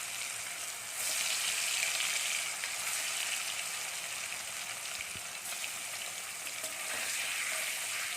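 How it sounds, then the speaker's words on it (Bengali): Paneer cubes with a little turmeric frying in a pan, a steady, soft, close sizzle that swells and eases slightly without pause. "এবার আমরা পনিরগুলোকে ভালো করে একটু লাল লাল করে ভেজে নেব"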